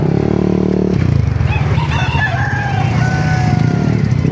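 A rooster crows loudly and nearby, a drawn-out rising and falling call over a steady rumbling engine drone, at a chicken market in Baliuag, Bulacan.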